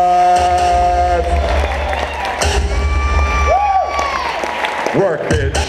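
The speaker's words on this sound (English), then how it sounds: "Get the Inxi Prodigy a round of applause." A crowd at a vogue ball femme final claps, cheers and whoops loudly and continuously, with shouts and an announcer's voice riding over the applause.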